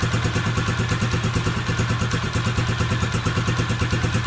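A Skygo 150 King motorcycle engine runs steadily at a close, even idle with a rapid rhythmic chug and slight clatter throughout.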